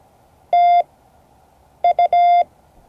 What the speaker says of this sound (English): That's thank you in Morse code.